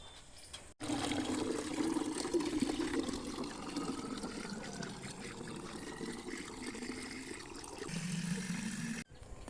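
Water running steadily into bottles from a tap at home, a close continuous gushing stream lasting several seconds between two abrupt cuts, with no voice.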